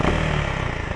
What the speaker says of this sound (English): The other thing, I love this exhaust.